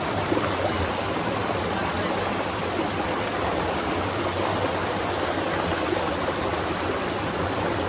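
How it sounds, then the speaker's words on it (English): A comb is rinsed under a running tap, giving a steady, close rush of water that holds even throughout with no talking. "Let me wash it."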